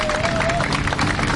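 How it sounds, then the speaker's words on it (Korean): Applause from a crowd at a citizens' rally calling for a Sewol ferry special law, with bereaved families in attendance; dense, steady clapping fills the whole brief moment, fairly loud and continuous, with some voices mixed in. "좀 다시 한번 박수를 부탁드립니다."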